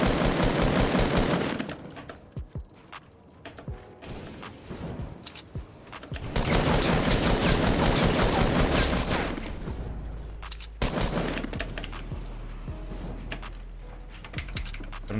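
Gunfire in Fortnite Battle Royale comes in bursts of rapid shots, mixed with steady clattering of a computer keyboard, with quieter gaps between the louder volleys.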